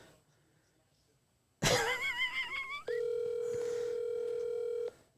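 A phone call being placed: after a brief rustle and a throat clear, tones warble, then a steady electronic tone holds for about two seconds before cutting off as the call quickly goes to voicemail.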